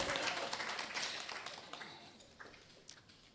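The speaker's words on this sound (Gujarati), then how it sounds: "એટલે તમારા માટે પણ તાળી થઈ જાય" Audience applause at a live music concert, a dense wash of clapping that starts loud and gradually fades out over a few seconds, with a few isolated claps lingering at the end.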